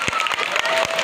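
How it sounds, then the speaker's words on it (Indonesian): Audience applause at a school Maulid Nabi religious talk in Bandung, a dense wash of clapping hands filling the whole short moment, steady and fairly loud. "Alhamdulillah, tepuk tangan."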